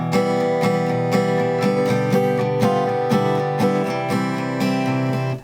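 An acoustic guitar plays a bright melody of plucked notes and strummed chords in a steady rhythm, close and clear with no voices.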